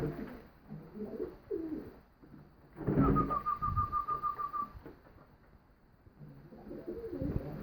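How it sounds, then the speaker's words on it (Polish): Pigeons in a loft coo in soft, low throaty bursts, with one clear warbling call in the middle and more muffled cooing before and after, fairly close with light background rustle. "Gołąbki wesołe."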